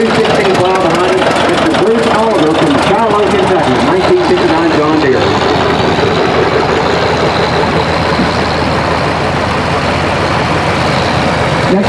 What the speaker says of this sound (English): Mr. Bruce Oliver, a 1959 John Deere, 730 model, with a 316 plow behind him